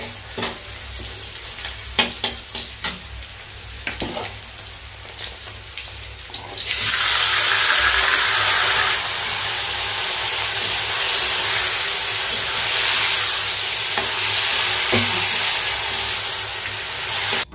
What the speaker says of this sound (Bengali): ব্যাস এবারে লবণ হলুদ দিয়ে এটাকে ভালো মতো কষিয়ে নেবো, ভেজে নেব